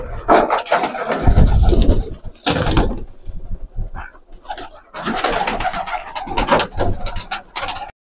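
An ailing pigeon coos nearby in several throaty bursts separated by short pauses, with soft rustling between calls.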